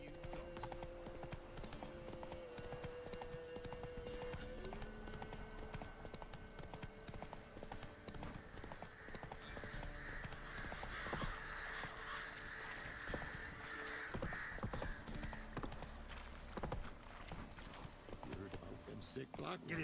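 Roach the horse galloping in The Witcher 3, rapid rhythmic clip-clop of hooves throughout with an occasional whinny, music and game sounds layered underneath and a person talking over it.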